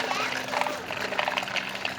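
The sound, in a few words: water running from a tap into a toy tractor tank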